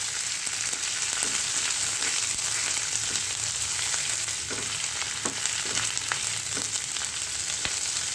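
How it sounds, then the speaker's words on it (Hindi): Diced tempeh fries on high heat with a dense, continuous crackling sizzle and scattered light spatters and stirring ticks, close and steady throughout, with no voices. "इसको बस भुनेंगे आधा मिनट तक"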